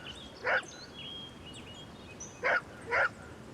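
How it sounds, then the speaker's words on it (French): A dog named Tic, herding rabbits, lets out three sharp barks: one single bark, then a close pair a half second apart, loud and near over a quiet outdoor background with faint birdsong. "Tic, le chien de Pascal, entre en action."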